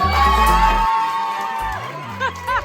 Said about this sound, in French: On l'applaudit encore très fort.